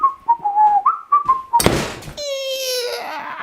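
A small headset speaker driven by a function generator at 1 volt gives steady, thin electronic tones near and alone, first a short run of stepping pitches, then a burst of broadband noise, then a sustained buzzy tone rich in harmonics.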